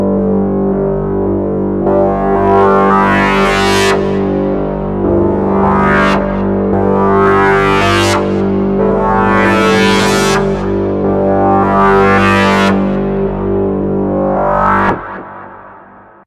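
Newfangled Audio Generate software synth with modulation and lush reverb, playing a dense, buzzing sustained chord with rhythmic bright swells every two seconds, ending in a reverberant tail.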